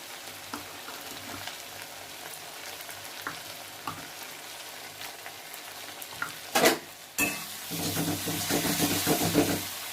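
Duck and chicken eggs go into hot oil in a wok, bursting into a sharp loud sizzle after a quieter stretch of faint crackling, then holding a sustained spitting fry up close.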